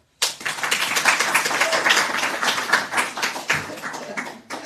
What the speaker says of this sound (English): Big clapping for Sundari.